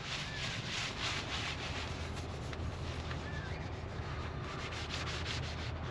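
Soapy scrubbing rubs steadily against a surface in a van-life camp setting, a continuous close, even scouring with no pauses and no voices.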